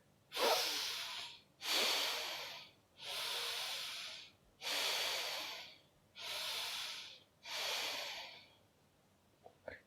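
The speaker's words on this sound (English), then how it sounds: "First, Bhastrika, simple breathing in and out." Six forceful bellows-style breaths of Bhastrika pranayama, each a loud rushing burst of air through the nose lasting about a second, evenly spaced and alone with no talking.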